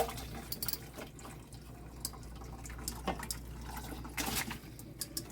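Chicken soup liquid is poured from a smaller pan into a bigger pan, with close, uneven splashing and dripping that comes in short bursts and trickles.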